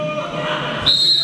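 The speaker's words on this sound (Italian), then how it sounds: "Fischia l'arbitro, tocco Siglari" A referee's whistle sounds at a Serie A football match between Cagliari and Lazio, one sharp, shrill blast that cuts in near the end over a television commentator's voice and the murmur of the crowd.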